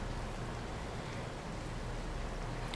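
Steady rain falls in the farming game Coral Island, a dense, even hiss of moderate loudness that carries on alone without any voices.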